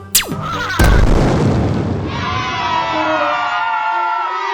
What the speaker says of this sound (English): They throw their magic into the sky. Boom! A beautiful blast.